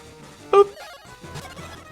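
Cackletta's defeat in the Mario & Luigi: Superstar Saga video game produces one short, bright crash-like burst followed by softer electronic game tones.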